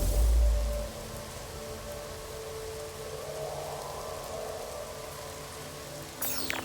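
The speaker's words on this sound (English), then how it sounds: "I can hear the rain and know it's a toxic planet." Steady rain hisses on the surface of a toxic planet in No Man's Sky, a constant wash of sound under low game tones, with a deep thud at the start and a sharp burst near the end.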